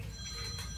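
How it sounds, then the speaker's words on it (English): A mobile phone ringtone plays briefly and fairly quietly, a steady electronic tone with no voices over it. "Yeah, that's my phone."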